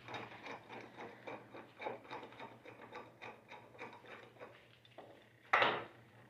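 A half-inch bolt turned into the threaded hole of a metal tool arm gives a run of small, regular metallic clicks and scrapes, close and quiet, ending in a sharper clank.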